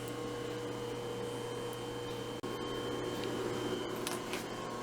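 A machine tool takes a cleanup cut on a welded plate, removing the last of a welded-in column, with a steady droning hum and tonal whine throughout and a brief dropout midway.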